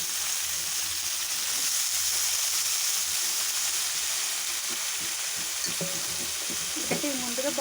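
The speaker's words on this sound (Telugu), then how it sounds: "ఉడికించి పెట్టుకున్న గోరుచిక్కుడుకాయ వేసేద్దాం" Boiled cluster beans fry in a hot pan for a gorari chikkudukaya curry, a loud steady sizzle throughout with occasional scraping stirs near the end.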